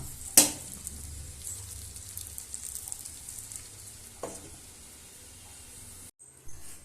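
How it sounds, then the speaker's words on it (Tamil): Village-style fish fry sizzles steadily in a pan, a constant close hiss with a sharp clatter near the start and a brief scrape later, ending as the heat is cut. "இப்போ நம்மளுடைய ஃபிஷ் ஃப்ரை ஆனது ரெடி ஆயிடுச்சு"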